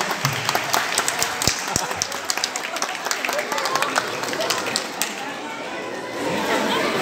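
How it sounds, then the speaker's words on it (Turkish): Wedding guests clap in a steady, lively round of applause, with chatter and voices mixed in, the clapping thinning briefly near the end before the crowd noise swells again. "Gel alkışlayalım, müzik de geliyor"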